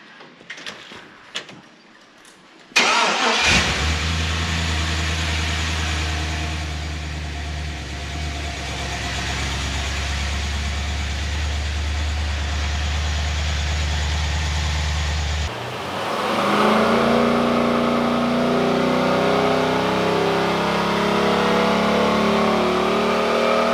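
A freshly rebuilt, cammed LS V8 in a Holden CV8 Monaro cranks over and catches, settling into a loud, rough lumpy idle close by, then steps up sharply to a higher revving pitch after a brief dip.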